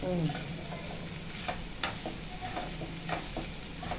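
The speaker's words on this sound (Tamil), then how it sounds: "ரெண்டு நிமிஷம் கலர்னா போதும்" Mixed vegetables stir-frying in oil for veg fried rice, a soft, steady sizzle broken by repeated scraping and clinking strokes of a spatula against the pan.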